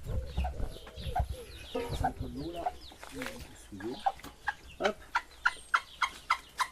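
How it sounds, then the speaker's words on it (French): Hen giving her rallying call to her chicks in a farmyard, a run of repeated soft clucks that grows into an even rhythmic series. Other fowl are heard around her, and a person briefly speaks. "Ça, c'est le cri de ralliement de la poule."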